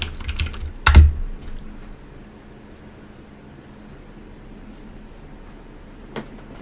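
A few quick keystrokes on a computer keyboard enter a Linux update command, a short burst of clicks near the start, then a low hum of room noise with one faint tap near the end.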